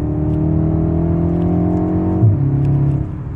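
A 2022 BMW M135i xDrive accelerates hard on its fast-shifting automatic, a steady loud engine drone that dips sharply at a quick gear change, then holds on.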